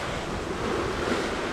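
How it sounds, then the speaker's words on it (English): Waves wash and splash over the foredeck of a Hallberg-Rassy 54 sailing yacht making 10 knots in the Gulf Stream, a close, continuous rush of water mixed with wind noise. "Deck's getting a bit of a wash. Well, a splash at least."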